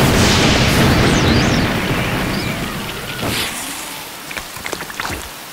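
A loud burst of dense, hissing rain-like noise that gradually thins out into scattered patters and small splashy hits, like a cartoon downpour.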